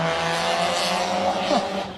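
Loud rally car engine at TARGA Tasmania near George Town, revving hard and sustained close by for two seconds with a brief pitch sweep as it passes, steady roar throughout.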